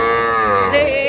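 At a livestock market selling bull and heifer calves, a single bovine lets out a loud, close moo that is drawn-out and tonal, lasting about a second.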